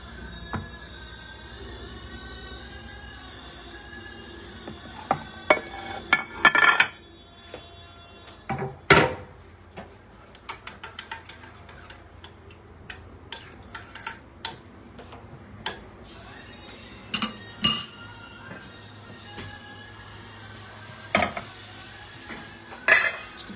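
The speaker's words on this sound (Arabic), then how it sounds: "نجيب الطبق بتاعنا كده." A serving plate brought to a kitchen counter and handled, scattered clinks and knocks of dishes and cutlery, near and intermittent over a quiet background, with a voice faintly in the background.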